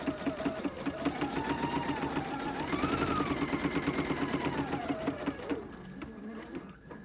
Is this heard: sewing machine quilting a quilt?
yes